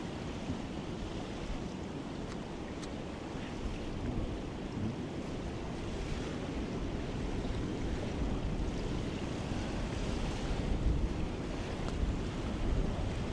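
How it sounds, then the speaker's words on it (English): Surf from ocean waves breaking on the offshore reef at Anini Beach, Kauai, a steady broad wash with gusty wind on the microphone, continuous and fairly loud with no speech. "those waves that you see would be hitting us right here"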